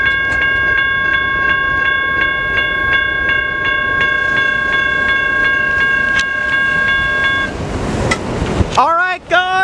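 CN freight train passing the Sibley Road railroad crossing in Trenton, Michigan: a loud, steady rumble of rolling cars runs under the crossing bell's regular ringing, then the bell stops and the horn blows near the end as voices talk.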